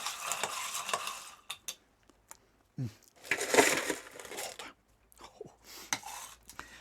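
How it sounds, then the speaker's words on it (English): A spiced rum cocktail stirred with a long bar spoon gives crisp, close clinks and rattles of ice against the glass in short bursts, with gaps of near-silence between them. "So we just get a long bar spoon and we're just going to stir"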